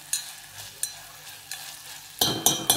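Stirring and roasting in a pot for Rajasthani dal bati gives soft periodic scrapes, then a louder burst of sizzling and clattering stirring near the end, close by and without talk.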